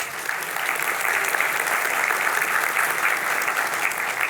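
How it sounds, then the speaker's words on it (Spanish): A church congregation claps warmly for a woman, a loud, full and steady round of applause from many people that carries evenly across the whole stretch without pause. "Le podemos dar un aplauso a ella"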